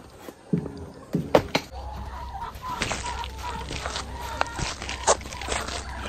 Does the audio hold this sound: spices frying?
no